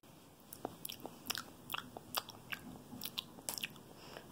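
Someone eating crunchy Doritos chips during a snack, with irregular crisp bites and crunches up close against a quiet room, the chewing sharp but fairly soft.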